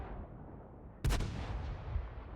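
A single heavy tank cannon shot booms once in a video game, a sharp close blast with a low rumbling tail over a quiet background hum.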